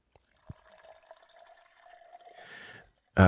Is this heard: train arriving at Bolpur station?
no